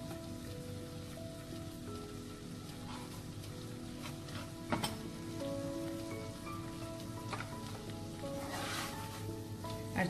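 Prawn curry with chopped coriander sizzling and frying in a pan over high heat, a steady close crackle with occasional stirring scrapes and no talk.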